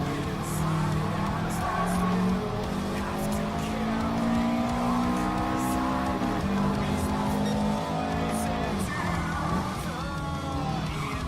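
Subaru Impreza race car in Gran Turismo Sport roaring loudly throughout, engine notes rising and falling with gear shifts, tire squeal and skidding mixed in, steady and close.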